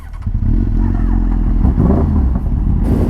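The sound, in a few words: sport motorcycles riding off on a group ride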